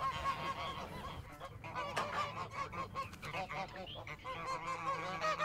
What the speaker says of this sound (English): did you see that geese used to guard the farm?